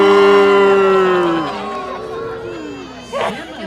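A crowd at a lumberjack show at the Alaska State Fair whoops and cheers loudly. A long, drawn-out shout fades into scattered yelling, and a fresh burst of noise comes near the end.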